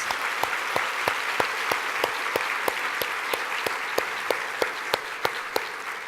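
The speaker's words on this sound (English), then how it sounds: "let's do them a round of applause" Audience at a big game awards show applauding the winners, a full steady crowd clapping with one or two people keeping a strong, evenly spaced beat that repeats throughout.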